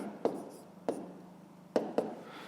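A pen scratching out numbers on paper during a fifth-grade math exercise: four short, faint strokes spaced apart in a quiet room.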